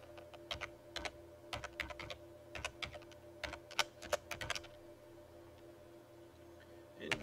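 Keystrokes on a computer keyboard while entering text into an Excel spreadsheet cell, scattered soft clicks in quick irregular clusters, faint and close, tapering off toward the end with no speech.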